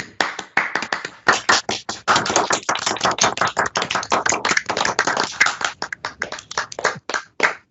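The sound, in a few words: applause from online attendees over microphones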